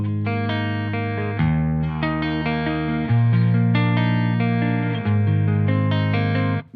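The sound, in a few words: electric guitar through amp on clean channel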